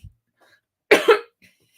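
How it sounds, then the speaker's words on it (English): A single sharp cough, a close double burst with a brief catch, standing alone against near silence. "Excuse me, I'm sorry for coughing."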